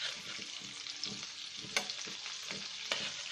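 Onion fries in a pan after shrimp has been cooked in it, making a quiet, steady sizzle broken by occasional sharp utensil scrapes and clicks.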